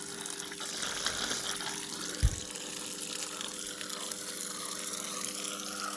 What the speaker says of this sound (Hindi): ये देखो, देख रहे हो पानी कैसे आ रहा है।